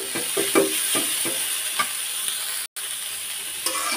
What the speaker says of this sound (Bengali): আবার তেলটা দিয়ে তারপর কিছুক্ষণ নেড়ে চেড়ে তারপর নামিয়ে নিব